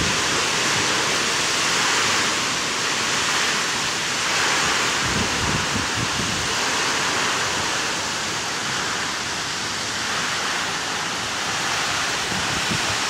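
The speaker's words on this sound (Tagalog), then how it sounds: "Sobrang lakas ng hangin." Very strong wind roaring steadily with dense broadband rushing noise, loud and unbroken throughout, with gusting surges and no voices.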